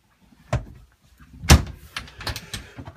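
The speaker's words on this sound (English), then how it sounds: "if I shut the door, you'll see that it's quite a good size with a light inside" Full-length hanging locker door shutting aboard a Jeanneau 57 sailing yacht, one soft knock followed by a louder thud as it closes, then lighter rattling clicks, close by in a quiet cabin.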